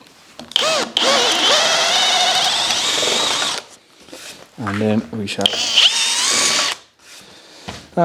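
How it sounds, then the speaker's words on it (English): A power drill whines loudly as it bores an 18mm hole into a walnut board, starting and stopping in bursts, with someone speaking briefly between runs. "So I'm going to drill it with an 18mm hole first."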